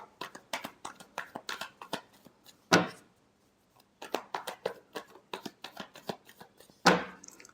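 A deck of tarot cards shuffled by hand for a love reading, quick close flicking and riffling taps in bursts, with two sharper slaps of the cards squared together and a short pause between, no talking.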